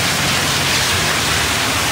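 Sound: rain falling on a garden

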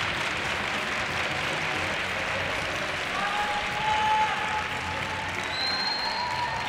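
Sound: audience clapping while awaiting the score

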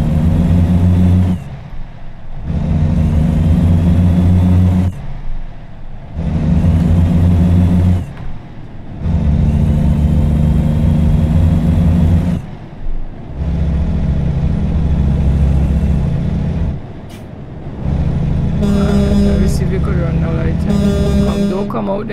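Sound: Volvo wheel loader engine in video game American Truck Simulator

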